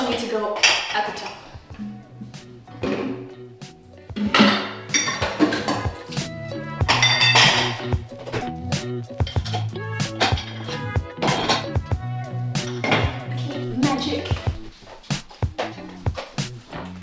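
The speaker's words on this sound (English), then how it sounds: "this dishwasher is looking quite full, so I need to move some things around to make space for these other things" Dishes and mugs clink and clatter as they are shifted around and stacked inside a crowded home dishwasher, with repeated sharp ceramic knocks and rattles continuing close by.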